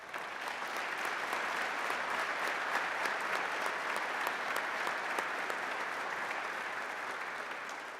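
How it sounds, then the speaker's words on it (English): An audience applauds at a police academy graduation ceremony at GRCC. The clapping is steady and sustained, a dense wash of many hands that holds at an even level from start to finish, with no voices over it. "Would you please give a round of applause"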